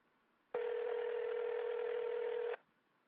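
A single two-second telephone ring tone on an unanswered call, steady, loud and alone, preceded and followed by near silence.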